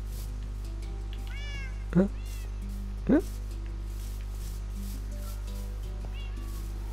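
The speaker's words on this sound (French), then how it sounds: "je vais libérer ce chat" Two short, rising meows from a cat in the block-building game Minecraft, clear and close over a steady low hum, with a person speaking briefly nearby.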